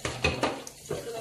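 Dishwashing in a home kitchen, leftover beans being scraped from a pan, with a few sharp clinks and scrapes of utensil on cookware in quick succession, fairly faint and close.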